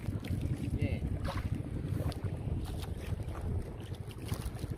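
Boat engines and water noise with wind buffeting the microphone, people talking intermittently over the steady drone.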